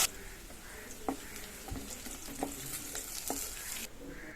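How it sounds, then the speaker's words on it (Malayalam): Shallots, chillies and curry leaves fry in oil with mustard seeds. The oil gives a steady, moderate sizzle, and a few sharp crackles and pops from the seeds break through it. "ഈ ഉള്ളി ഒരു ഗോൾഡൻ കളർ ആവുന്നവരെ എണ്ണയിലൊന്ന് മൂപ്പിച്ചെടുക്കാം"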